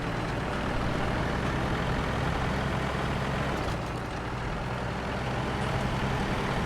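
Paystar truck engine in the SnowRunner video game, driving through mud with all-wheel drive engaged: a loud, dense, continuous engine roar holding steady throughout, with no talk.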